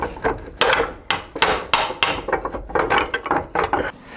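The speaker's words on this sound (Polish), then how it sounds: "tu panie Pawle puknąć młoteczkiem. Blacha się cofnie" Sheet metal is tapped with a small hammer on a century-old lifting jack used to raise a barn: a quick series of sharp, close metallic knocks in irregular rhythm, loud and clear.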